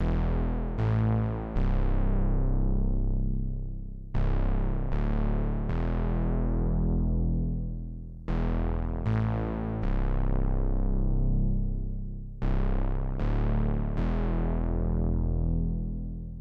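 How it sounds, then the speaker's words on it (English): Deep, fat analog-style synth bass notes made in Vital play a repeating pattern, each hit swelling and then decaying, loud and alone with no other instruments. "how to make a massive analog sounding bass in Vital"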